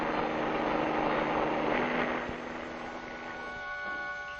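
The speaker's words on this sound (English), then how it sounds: "Reporters in helicopters get a bird's eye view of traffic conditions" A traffic-reporting helicopter flies over city highways in 1958, its engine and rotor giving a loud, steady drone with a whining tone that fades slightly toward the end.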